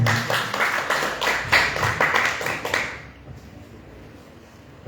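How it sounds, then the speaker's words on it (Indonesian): An audience at a morning talk claps together in a dense burst of applause that rings for about three seconds, then quickly thins out and fades to quiet room tone. "Tepuk tangan untuk Pak Hedi."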